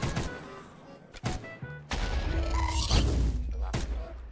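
Guns fire in a Minecraft game, with a few sharp cracks standing out above a dense, rumbling wash of game noise and no talking.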